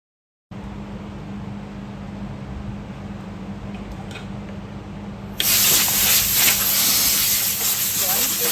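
Pneumatic air compressor powering a staple gun for chair reupholstering runs as a steady hiss and drone, jumping to a louder, brighter rush of air about five seconds in; no one talks over it.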